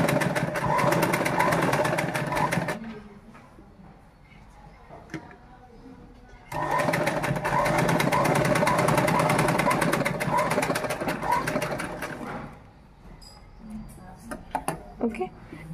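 A sewing machine stitches a uniform shirt in two long, loud, continuous runs of fast whirring, with quieter gaps between them where small handling noises are heard.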